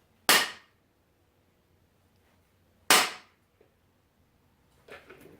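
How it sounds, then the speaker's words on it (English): Two sharp, loud impacts about two and a half seconds apart as a bullet puller holding a .223/5.56 cartridge in its shell holder is struck on concrete, each ringing out briefly, followed by faint handling clatter. "you just hit it on the concrete, and it'll start to move that bullet forward"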